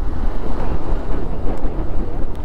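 Strong gusting wind at Jomsom in Mustang, near the airport, roars as a loud, steady broadband rush that buffets the microphone continuously throughout.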